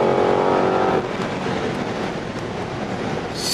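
A Cadillac CT5-V Blackwing accelerates hard, its engine a loud, close, rising roar that dips briefly as a gear changes, then pulls on strongly.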